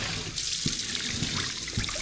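Strong tap water running steadily at a campsite water source at Unisan Sands, Quezon, a continuous broadband rush with a few soft knocks, close and alone without speech.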